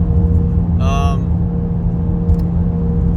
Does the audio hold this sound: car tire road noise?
yes